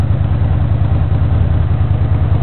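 A 1982 Honda GL500 motorcycle engine idling after a tuneup, a steady low rumbling putter that holds an even, continuous rhythm throughout at close range, with no voices over it.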